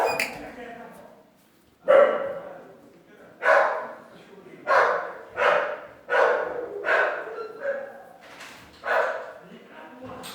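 Dogs bark repeatedly nearby in loud, evenly spaced woofs, around seven or eight barks with short gaps, some trailing into yips, alongside a man's speech.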